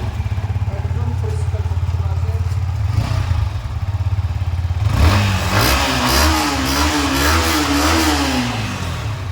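A Yamaha R15 V3 motorcycle with about 3,963 km on it idles with a rapid, even putter, then revs up with rising and falling engine pitch for several seconds at close range, with someone speaking over it.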